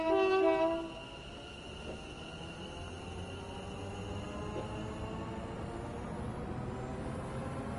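A train horn in Train Sim World 5, with a brief tone sounding at the start, followed by a steady rumble of the train running along the London Overground line near Kilburn High Road.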